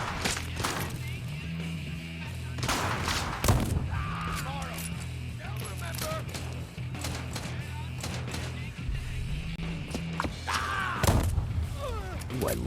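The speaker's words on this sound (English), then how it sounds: "I love the sound of an old-fashioned rifle" Old-fashioned rifle shots in the video game Deathloop, several sharp cracks scattered among game effects and background music, each with a short reverberating tail, with a voice talking over much of it.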